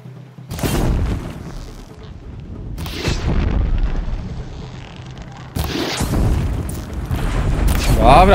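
Several heavy booming explosions go off one after another in Horizon Zero Dawn, each a loud, rumbling burst that lingers before the next.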